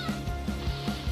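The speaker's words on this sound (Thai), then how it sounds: "เจออีกาบ่อยจังวะ เกมเนี่ย" A crow in the Brawl Stars mobile game gives a quick series of about five short, evenly spaced caws, each clear and fairly loud.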